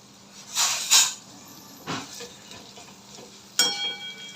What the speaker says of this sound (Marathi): तर हाय फ्लेमवर हे कांदा ना थोडासा गोल्डन ब्राऊन कलर येईपर्यंत आपल्याला तेलात परतून घ्यायचं आहे